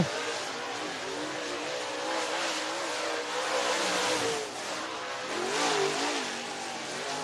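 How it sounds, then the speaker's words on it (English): A dirt track race car at Duck River Raceway Park in Lewisburg, Tennessee, runs a qualifying lap, its engine roaring steadily and swelling as it accelerates through the turns; loud and continuous, with no talking. "And our final qualifier in car number 13 out of Shelbyville, Tennessee, Scott Cook."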